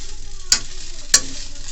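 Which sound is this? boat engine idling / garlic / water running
garlic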